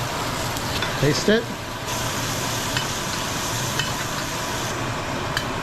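Dry aged ribeye steak sizzles steadily in a pan with garlic cloves and a big knob of butter, a constant broadband hiss running under a brief spoken remark.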